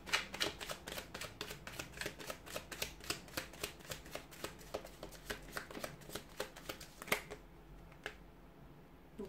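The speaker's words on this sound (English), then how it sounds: "So I'll go ahead and give the cards a shuffle" A deck of tarot cards is shuffled by hand in a quiet room, giving a rapid, steady run of soft riffling clicks that stops abruptly near the end.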